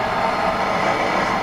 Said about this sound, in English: this freight train looks cool